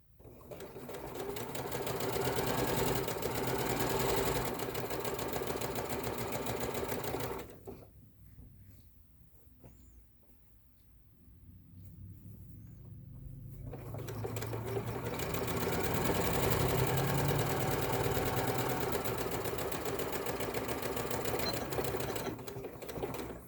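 A sewing machine stitches a quarter-inch seam on a fabric pocket meant to hold a coffee filter, running steadily for several seconds, pausing briefly, then whirring on again at close range with no talk.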